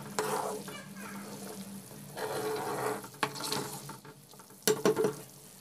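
A pot of fish curry bubbles and sizzles steadily at close range, with soft stirring scrapes and a few louder clatters toward the end.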